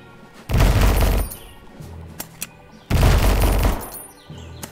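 Two loud bursts of rapid gunfire from the Conker video game, each lasting under a second, separated by quieter game sounds and a few small clicks.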